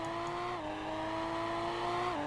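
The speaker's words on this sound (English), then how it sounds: "Mainly because of the engine sound." Steady car engine drone in a Roblox driving game, holding an even pitch with a slight downshift in tone near the start and end, loud and continuous with no talk.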